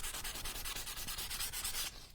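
Sandpaper rubs back and forth over a bookmark-sized piece of card in steady, closely spaced strokes, a continuous scratchy hiss that stops abruptly near the end.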